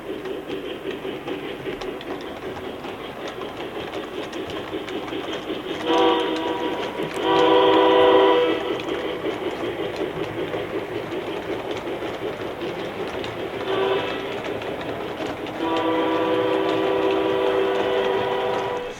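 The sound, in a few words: model train running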